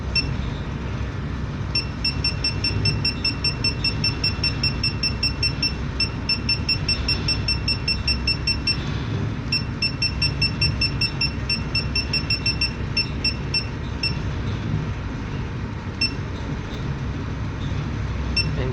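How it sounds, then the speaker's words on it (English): Repeated electronic beeps in steady bursts from a JRC JFE-860 echo sounder's depth alarm, a high-pitched tone sounding over constant low engine-like rumble. "That is how to check your depth alarm in EcoSounder."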